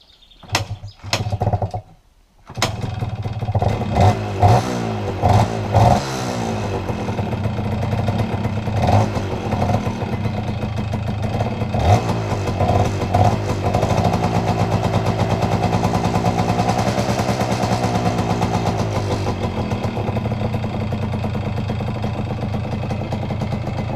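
A Yamaha DTMX 125 motorcycle engine with freshly replaced piston rings kicks into life after a few stuttering attempts, then settles into a steady, close, loud two-stroke idle with occasional small blips of throttle.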